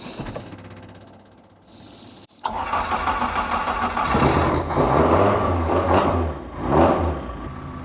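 A Mk2 Ford Escort engine cranks briefly with the starter motor, without pinion grinding, then catches and settles into a steady running rumble, close by.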